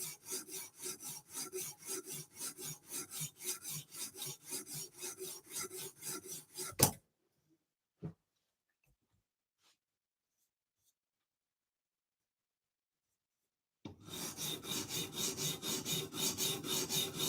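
A MicroTech Stitch knife blade is rubbed in steady, close raspy strokes across UKSG whetstones at a fine angle, then the scraping halts for several seconds of near silence and resumes with the same rhythmic strokes.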